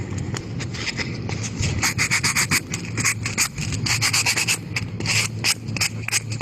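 Wood being sanded by hand in a classroom craft session: continuous close rasping strokes in a quick, uneven rhythm, with no voices over them.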